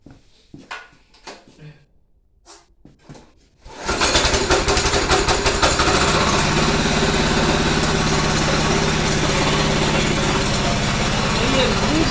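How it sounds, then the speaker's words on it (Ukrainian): Walk-behind tractor engine powering a generator to light a garage, starting after a few seconds of quiet clatter and handling, then running steady, loud and close with a constant chugging drone. "Зараз заводимо нашого мотоблока."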